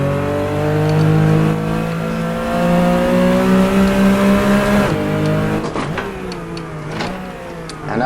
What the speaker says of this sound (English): I'm flat shifting through the gears